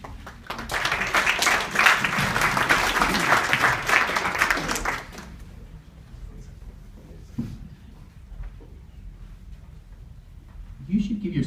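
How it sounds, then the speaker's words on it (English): Audience applause at a gathering, a dense burst of clapping that swells for about five seconds and then stops abruptly, followed by quiet room tone with a few faint sounds. "You should give yourselves a round of applause."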